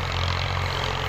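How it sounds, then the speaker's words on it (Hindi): A tractor engine runs steadily, a low continuous rumbling drone that stays loud and unchanging throughout with no talking. "या आपको ट्रैक्टर की आवाज़ आ रही है"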